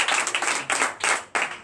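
Church congregation clapping at a Sunday service in Comè, Benin, a loud burst of dense applause in several swelling waves, each dropping off briefly before the next surge.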